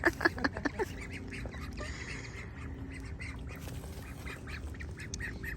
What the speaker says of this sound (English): The ducks are loving the water.